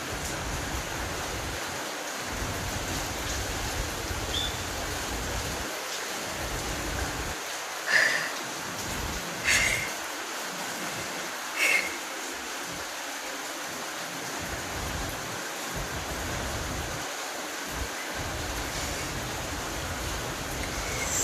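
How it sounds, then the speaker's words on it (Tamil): Heavy rain pours steadily at night as a dense, constant hiss, with a few brief sharp knocks standing out and no talking. "செம மழை."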